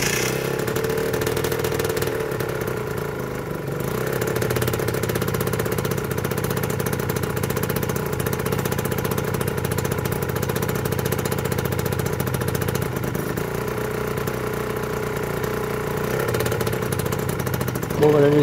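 A Rieju RS3 motorcycle engine idles steadily after its first start, a continuous close-up rumble that holds even for the whole stretch.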